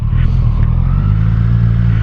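Kawasaki Z1000SX sport-touring motorcycle engine running steadily throughout, a loud, continuous low rumble with a faint higher whine above it.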